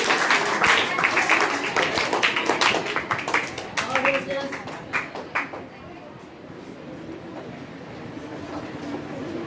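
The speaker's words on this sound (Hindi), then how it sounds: "मेरे लिए ताली एक बार मारो, ताली" An audience at a quiz contest bursts into dense, loud clapping that tapers off over several seconds into scattered claps and quiet room noise.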